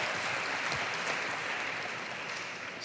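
A conference audience at a report launch in Mumbai claps steadily throughout, a dense, even wash of applause that fades slightly toward the end, with no talking over it.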